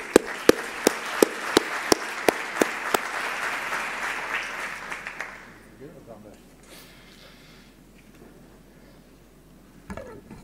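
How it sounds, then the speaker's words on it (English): An audience at a botanic gardens congress breaks into steady applause for about five seconds, with a few sharp nearby claps standing out, before fading to a quiet room and brief noise near the end. "If I can ask you for a round of applause"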